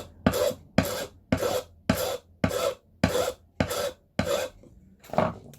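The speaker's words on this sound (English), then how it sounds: "Now all that's left to do is to file these flat." Metal file rasping across the tabs of handmade gemstone earrings, held close: eight regular back-and-forth strokes with short pauses between them, then a ninth after a brief gap, with no talking.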